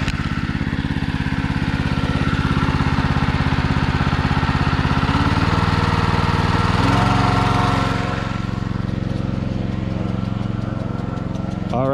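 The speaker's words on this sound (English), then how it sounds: "The pump is on low, it's just idling, so we're gonna go ahead and turn it up" A small trash water pump engine drones loudly and steadily nearby, its pitch and intensity shifting partway through as it's throttled up from idle, then settling into a lower running rumble.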